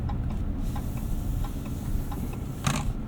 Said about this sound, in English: Turn signal sounds a bit odd.